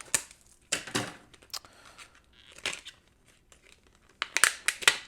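Plastic clamshell packaging for a tool is cut and pried open, with irregular crackling crinkles and sharp snips in scattered bursts, close and fairly quiet, busiest toward the end.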